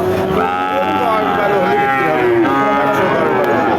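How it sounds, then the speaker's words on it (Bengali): Sahiwal and Red Sindhi heifer calves lowing at a cattle market, with drawn-out overlapping moos close by over a busy crowd murmur, continuing throughout. "এই যে এক জোড়া বাছুর, চমৎকার একটা শাহিওয়াল আর একটা লাল সিন্ধি বকনা বাছুর, আপনারা দেখতে পাচ্ছেন"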